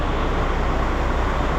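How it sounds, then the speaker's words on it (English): A Case IH T800 combine engine runs in the background on a farm, a steady low rumbling drone with no talking. "That noise you hear in the background, that's the T800."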